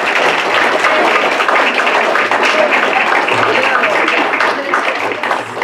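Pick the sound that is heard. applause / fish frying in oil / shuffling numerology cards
applause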